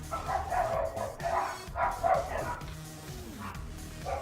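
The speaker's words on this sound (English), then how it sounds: "Every time anything goes by, they bark." Several dogs bark and yip in quick repeated bursts, fairly close, with a few whiny yelps between them and steady background noise.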